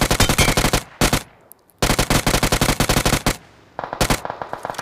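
Rapid bursts of automatic gunfire spraying from a weapon fitted with a 6x scope in a battle royale shooter, loud and close, with two brief pauses between the volleys.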